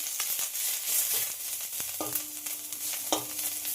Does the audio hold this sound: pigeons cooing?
no